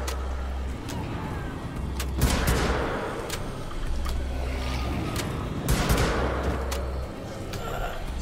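Gunfire and combat from the video game Wolfenstein: The Old Blood, with repeated sharp shots and bursts over a constant low rumble of game ambience. The sound runs steadily at fairly even loudness throughout.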